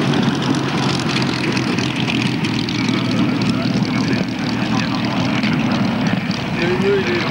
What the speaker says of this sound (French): Voilà donc le plus bel avion du monde, le Vickers Supermarine Spitfire, retour au parking.